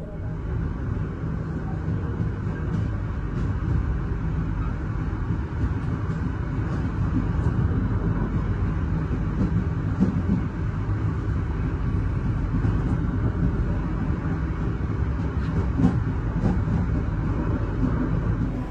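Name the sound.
Gaya Baru Malam Selatan train arriving at Kutoarjo station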